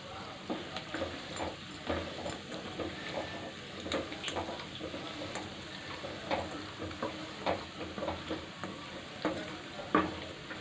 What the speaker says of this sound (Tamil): முந்திரி பருப்பு கொஞ்சம் ஃப்ரை ஆகட்டும்.